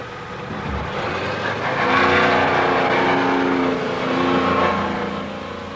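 Heavy quarry lorries at a coral limestone cement works drive away, their engines a steady, loud, low rumble that swells and eases, with no one talking.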